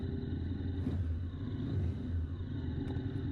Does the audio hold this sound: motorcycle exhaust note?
yes